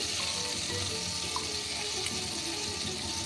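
Yogurt whey water poured into a pan of cooking sour yogurt over low gas, a continuous splashing hiss with light sizzling underneath, close and even.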